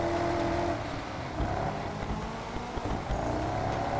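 Car engine from the racing game Test Drive Unlimited Solar Crown, a steady moderate drone with shifting revs and a brief tonal whine near the start, heard alone without talk.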